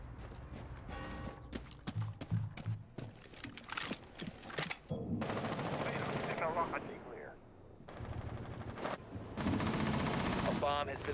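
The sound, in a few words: gunfire in a Rainbow Six Siege video game match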